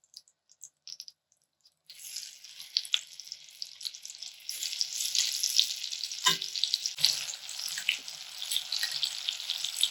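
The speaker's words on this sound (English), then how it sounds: "Now I'm going to add the shrimp to the pot." Shrimp hit hot oil and melted unsalted butter in a pot for blackened shrimp and andouille jambalaya, setting off a loud, steady sizzle that swells and crackles after a quiet start, with no talking.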